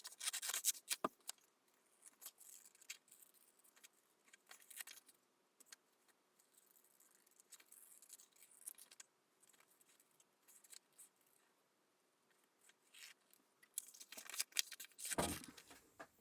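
Crisp snipping and rustling of paper being cut, a steady series of small cuts close by, with a louder handling noise near the end.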